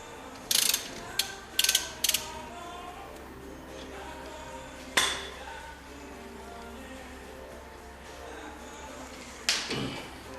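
A socket wrench ratchets on a bolt during front brake work on a 2017 Infiniti Q60, giving sharp close clicks in short bursts with pauses between them over a low steady background hum.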